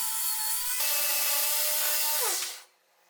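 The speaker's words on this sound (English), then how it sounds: "I'm sanding this surface using my 2x72 belt grinder, wooden version." Harsh, steady whine of a wooden 2x72 belt grinder sanding a wood surface up close, shifting pitch briefly before winding down and stopping.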